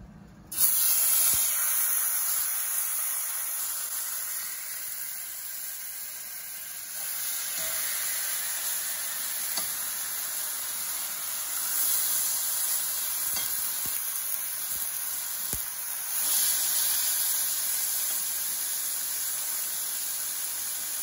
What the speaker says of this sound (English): You can steam whatever veggies you have available.